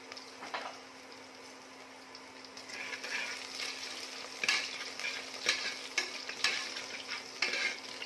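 Crushed garlic sautéed and stirred in a pan for plain khichdi, a soft low sizzle with repeated scraping stir strokes growing busier toward the end, no talk.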